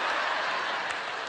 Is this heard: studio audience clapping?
yes